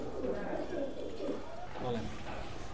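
Omani Teddy pigeons cooing in a high-flying pigeon loft, soft repeated low coos over a steady background hum, with faint voices in the loft.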